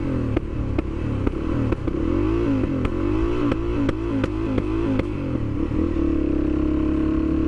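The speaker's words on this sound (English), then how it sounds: "you can make it backfire by hitting the kill switch" Suzuki DRZ400 motorcycle, a 2022 model, idling steadily while sharp backfire pops from the kill switch crack out in a loose irregular series over the engine drone, loud and close.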